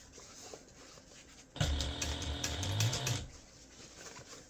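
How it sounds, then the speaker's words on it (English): A sewing machine runs top stitching on a medium gift bag in one short, steady burst of rapid needle whirring, close and fairly loud, set between quiet pauses. "that will help you to keep your top stitching nice and even"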